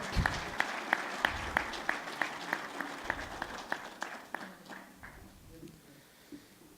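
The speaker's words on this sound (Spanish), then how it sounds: "Vamos a recibirlo también con un aplauso por favor." Steady applause from a group, individual claps ringing out distinctly at first, then thinning and fading toward the end.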